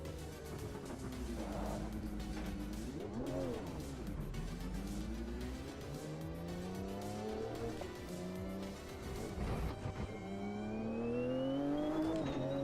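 Race car engine in the Automobilista 2 racing game, loud and up close, revving up and down through gear changes with rising and falling pitch sweeps and a brief tire squeal, with no talk over it.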